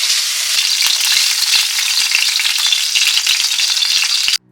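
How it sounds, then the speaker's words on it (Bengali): Egg frying in a hot oiled pan while cooking chowmein, a loud, steady, continuous sizzle and crackle with small pops throughout, close and alone, cutting off abruptly at the end. "এবার ডিমটাও ভেজে নেব।"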